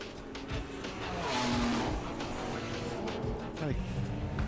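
BMW drag racing car launching off the start line at Santa Pod Raceway, a rising engine roar heard from a distance with a brief tire chirp, mixed with track ambience and a voice talking over it.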